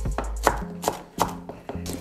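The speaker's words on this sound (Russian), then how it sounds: "После чего нарезаем его, ну кубиком нельзя, вот тонкими-тонкими квадратиками." Knife chopping iceberg lettuce into thin small squares for a grill burger sauce, four crisp sharp strikes on a board at a steady rhythm, close and clear with no talk.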